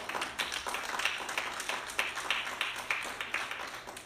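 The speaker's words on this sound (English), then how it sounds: "Can we give God another hand clap of praise?" A church congregation claps hands in praise during a Baptist worship service, a steady run of overlapping claps from the room, moderately loud and continuing throughout.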